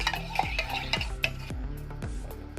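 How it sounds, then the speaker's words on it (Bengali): A spoon stirs a spoonful of cornflour into milk for kulfi, making steady, rhythmic scraping strokes about twice a second, close and clear, with faint music in the background. "এই দুধটার মধ্যে ভালো করে মিশিয়ে নেব, যেন কোনো জায়গায় তলা পাকিয়ে না থাকে"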